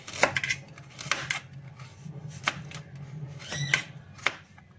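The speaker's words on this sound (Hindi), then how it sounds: "इसी तरीके से हम लंबे लंबे पीसेस में अदरक को कट करेंगे" A knife cuts ginger into long pieces for a carrot pickle, making sharp, close chopping taps in irregular bursts with short pauses between them and a low hum underneath, with no talking.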